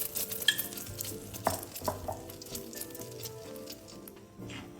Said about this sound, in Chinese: 油热后，将备好的蛋液全部倒入，这货边起泡部分就是所谓的蕾丝边。